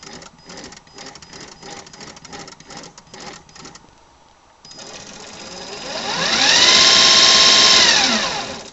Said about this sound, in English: Yeah, it's my Arduino powered motor. Sinclair C5.